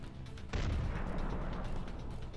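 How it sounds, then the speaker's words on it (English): A tank is destroyed by a mine in a burst of low, rumbling blast noise that starts abruptly about half a second in and rolls on heavily, faint in level and heard from a distance. "The attack begins with the destruction of a tank by a mine."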